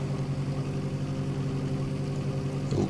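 Simulated aircraft engine at full power in X-Plane 11, flying in icing conditions with ice building on the cowling, a steady droning hum with a strong low rumble, close and constant.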